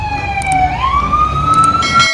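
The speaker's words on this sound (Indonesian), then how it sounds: "Wow, mobil pemadam kebakaran." A toy fire truck siren wails in a steady, slowly rising electronic tone, loud and close, alone without talk.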